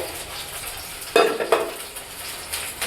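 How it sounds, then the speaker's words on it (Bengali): Food cooking in a home kitchen as an offering meal is prepared, with faint frying sizzle under two sharp clinks of a utensil stirring against a pot, no talking. "রান্না হচ্ছে এই যে মা এখানে কৃষ্ণভোগটা রেডি করছে"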